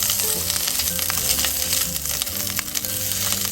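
Chorizo sausages frying in a pan make a steady, close, crackling sizzle with scattered pops and spatters throughout.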